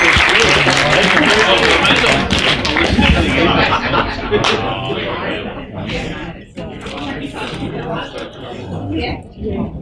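Wedding guests applaud in a hall, a dense crowd clapping that starts loud and tapers off slightly over about ten seconds, with some voices and laughter mixed in.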